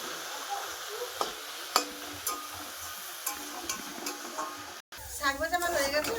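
Leafy greens (shak) frying and being stirred in a pan, a soft sizzle with occasional scraping clicks, then a brief gap followed by someone talking over it.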